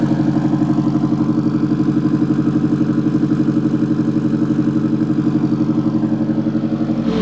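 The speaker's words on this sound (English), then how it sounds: "exhaust sounds so good" A turbocharged Mazda Miata idles at operating temperature, its exhaust a steady, loud, close rumble with a fast even pulse and a faint clatter, running alone without any talking.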